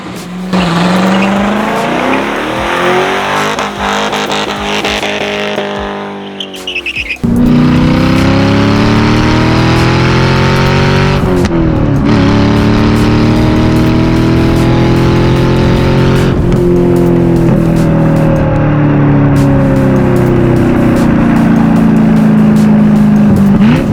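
2000 Chevrolet Corvette engine while driving, a loud close engine note rising and falling through repeated accelerations and gear shifts, continuous with no talk.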